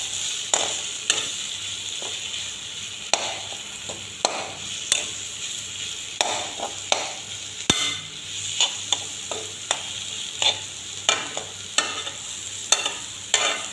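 Eggs and vegetables frying in a pan, with a metal spatula scraping and stirring in repeated sharp strokes over a steady sizzle, close and fairly loud. A brief voice is heard once.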